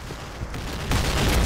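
A grenade goes off inside a wooden room in a video game: a dull, rumbling blast rises midway and holds loud to the end, over a low background of gunfire-like noise.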